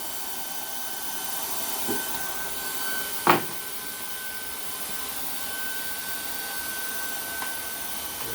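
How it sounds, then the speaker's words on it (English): A shop vacuum on a banner heat welder table runs as a steady broadband whoosh with a faint tonal whine, continuous and close, broken only by a couple of brief clicks or knocks. "Get the vacuum on."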